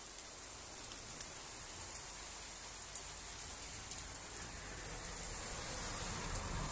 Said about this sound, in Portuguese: Tempinho de chuva aqui, ó. Não para de chover.